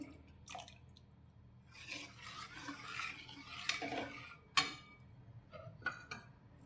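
Mixed food colour being stirred into sugar syrup for mohanthal, soft wet swishing and stirring with a few sharp spoon clinks against the pan, close and fairly quiet.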